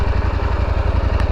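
A KTM 890 Adventure R motorcycle engine running just after starting, a loud, close, steady low throb with rapid regular pulses that holds without a break.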